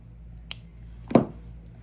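Two crisp snips as cutters trim beading wire while finishing a bracelet: a light click, then a louder, sharper cut about half a second later, close and alone in a quiet room.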